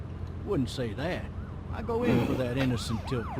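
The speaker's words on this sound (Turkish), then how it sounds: "Normalde orada polis siren sesi geçti ama polis kendisi yok." A police siren in the video game The Walking Dead wails with rising and falling sweeps as it passes by, moderately loud, heard under someone talking.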